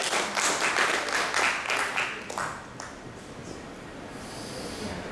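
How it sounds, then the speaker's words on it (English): A group of volunteers on a big-history tour in Argentina gets applause: a burst of dense clapping that thins out after a few seconds into faint, scattered claps and murmur. "Big applause to the volunteers."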